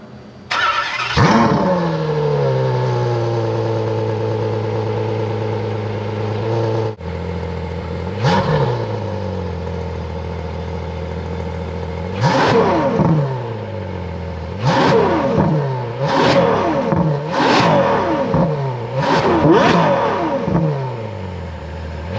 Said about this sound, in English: It's a naturally aspirated V12.